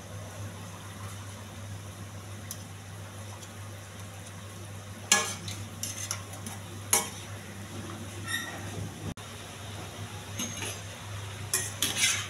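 Mirchi vada, chilli fritters, fry in oil with a steady low sizzle while a utensil scrapes and clinks against the pan in sharp, irregular bursts as the fritters are turned.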